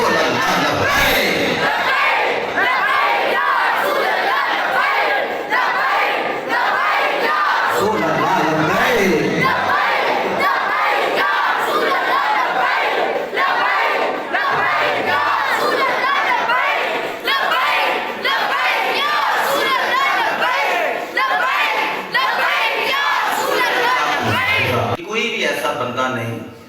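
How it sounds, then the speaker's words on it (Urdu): A large crowd at a religious gathering chanting the slogan Labbaik Ya Rasool Allah, loud massed voices roaring in repeated waves over a speaker, sustained almost to the end. "نعرہ مارے لبیک لبیک لبیک یا رسول اللہ لبیک"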